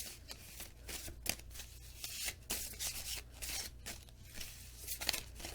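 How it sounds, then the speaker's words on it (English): A stiff deck of tarot cards is shuffled by hand: steady papery riffling and rubbing with sharp slaps every so often. It is close and fairly soft, with no voices. "These cards are kind of hard to shuffle."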